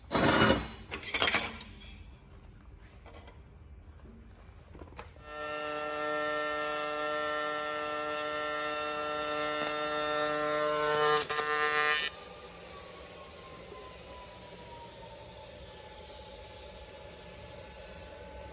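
A Miller Multimatic 220 multipurpose welder runs a pass with high frequency on, giving a steady, loud buzzing hiss for several seconds that then drops to a softer, lingering hiss, with short crackles before it starts.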